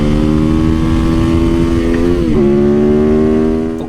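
A 2021 Yamaha MT-07 motorcycle engine revs loudly and steadily up close, its pitch dipping briefly near the middle before holding high again, with no talking.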